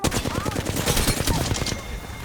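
Rapid bursts of R-99 submachine gun fire in the Apex Legends style video game, a close, loud rattling stream of shots with overlapping impacts and a faint voice underneath.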